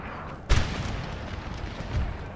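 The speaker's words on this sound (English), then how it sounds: "Let's try and fire a few rounds into him." Artillery cannon fire on a Napoleonic battlefield in Napoleon Total War, one sharp heavy boom followed by rumbling battle noise and a second duller thud.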